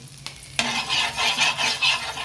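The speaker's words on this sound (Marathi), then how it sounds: "तवा तापला, थोडंसं तेल घालून घेते" Hot oil sizzles steadily on a dosa griddle after a sharp clatter, with a faint scraping of utensils on the hot pan nearby.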